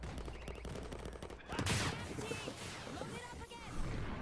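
Missile launches in World War Z during a zombie horde fight in France: a rushing blast kicks in midway over dense background gunfire, followed by whooshing trails and a second surge near the end.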